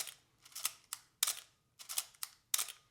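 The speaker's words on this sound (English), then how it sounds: "Then you're going to wind and fire your shutter a few times" Canon SLR film camera shutter on an A-1 or AE-1 model, being wound and fired repeatedly: a series of sharp mechanical clicks and winding rasps, close and distinct, about six firings in quick succession.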